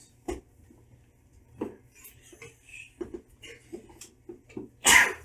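A sharp, loud sneeze bursts out near the end, following quiet clinks and small handling noises at a table in a home tabletop gaming session.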